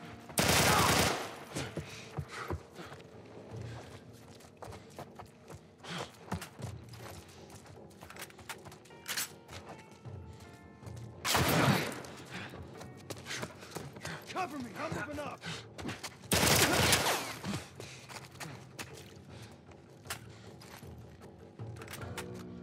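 Gunfire from The Last of Us Part 1, with a few loud broadband bursts standing out among quieter game sounds and talk, including two heavy blasts near the middle and later in the stretch.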